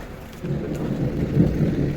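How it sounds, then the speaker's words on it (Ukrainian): Thunder rolling outdoors near a mountain on an evening walk, a low, steady rumble that swells midway, with a faint rain-like hiss and no talking. "О, чуєте, як гримить?"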